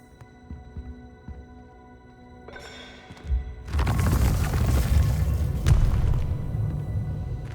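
A Confringo blasting spell goes off in Hogwarts Legacy: a low hum gives way to a sudden heavy boom that swells into a loud, sustained roaring rumble lasting several seconds.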